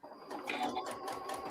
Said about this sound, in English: I'm going to just start sewing here and come down so you guys can take a look